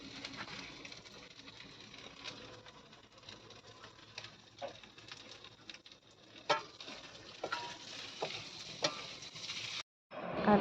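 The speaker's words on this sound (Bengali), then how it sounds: "বাকি ডিমটা ভাজতে ছিল, তো মা ওটা ভেজে নিচ্ছে" An egg frying in a home kitchen pan, a steady soft sizzle with occasional clinks and scrapes of stirring, continuous for about ten seconds before a brief break and a louder clatter at the end.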